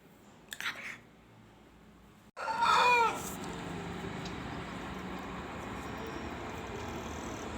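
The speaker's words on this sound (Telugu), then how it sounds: "ఆ పిల్లల కోసం కోడి అరుస్తూ ఉందండి" A hen calls out for chicks that have wandered off: a short burst of loud, nearby clucking cries after a quiet start, then steady outdoor background noise.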